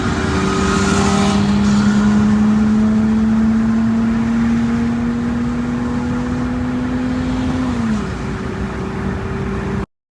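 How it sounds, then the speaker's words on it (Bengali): A car with a stock exhaust manifold revs and holds a steady droning engine tone that rises slowly, then drops off sharply near the end, heard close and loud with no talking. "ওটা কিন্তু আমার গাড়ির স্টক ম্যানিফোল্ডের সাউন্ড, যেটা হচ্ছে একটা এক্সস্টের মতোই সাউন্ড দেয়"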